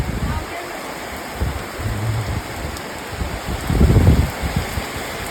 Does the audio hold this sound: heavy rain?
yes